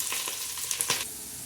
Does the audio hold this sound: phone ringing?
no